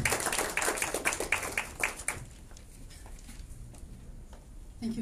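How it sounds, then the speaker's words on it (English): A short burst of audience clapping greets the Swedish ambassador at a gender-equality event, sharp and fairly close for about two seconds before thinning to a few scattered claps and quiet room tone. "Let's give her a round of applause"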